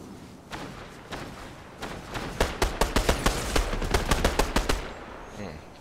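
Rapid bursts of gunfire from the video game Fortnite, a run of sharp repeated shots that speeds into a dense volley near the middle before stopping, over a noisy background.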